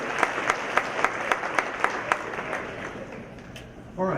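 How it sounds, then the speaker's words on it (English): An audience at a high school honors night claps for the parents in a brisk, fairly even rhythm that fades out, and a voice comes in at the end. "I'd also like to give a hand of applause to all the parents who made these wonderful kids"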